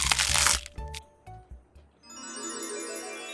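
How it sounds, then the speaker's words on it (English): A loud, crackling crunch from biting into extra crispy air fryer chicken wing drumettes with a crispy coating, lasting about half a second, followed by a few smaller crunches and then steady music. "the best extra crispy air fryer chicken wings with a crunch"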